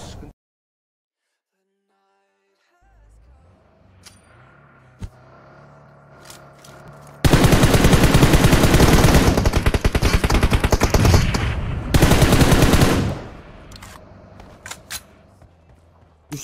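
Rapid automatic gunfire from the video game PUBG Mobile. Two long, loud bursts of dense shots are separated by a short gap, with a few isolated single shots before them and fainter shots afterward.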